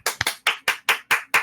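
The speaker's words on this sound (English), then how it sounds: "I'm clapping, but it's not picking up on the mic." Seven sharp hand claps ring out close and loud in a quick, fairly even rhythm, each a crisp snap with a short tail.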